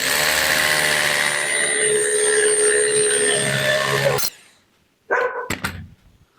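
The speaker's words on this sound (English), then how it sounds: "what are you barking at?" A dog barks close by, harsh and sustained at first, then after a short pause gives a couple of quick, sharp barks.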